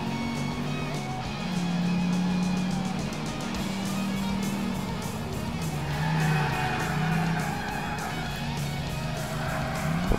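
A car drives in GTA 4, its engine droning steadily with pitch rising and falling as it shifts, while tires squeal and skid through the turns. Continuous and fairly loud, with no talking.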